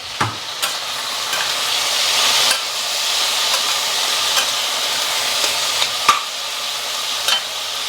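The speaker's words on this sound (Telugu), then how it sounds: "ఇదిగోండి వంకాయలు కూడా ఏగిపోతున్నాయి" Brinjal pieces fry in a pan with a steady, loud sizzling hiss, and sharp scrapes and clicks of stirring break through at intervals.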